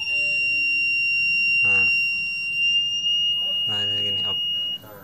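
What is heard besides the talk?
buzzer alarm of automatic drill overheating circuit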